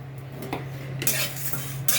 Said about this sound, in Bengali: এই মশলাটা এবার আমি ভেজে নেব।